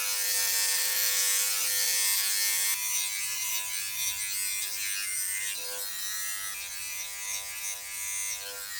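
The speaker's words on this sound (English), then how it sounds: "Pop this off, and let's just use a trimmer blade." A Philips Body Groomer 7000 trimmer blade, used without a comb, buzzes steadily while trimming body hair, close and continuous, its tone shifting slightly as it moves across the skin.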